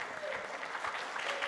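Audience applause at a corporate annual general meeting, a faint, steady patter of many hands clapping at a distance for a brief moment.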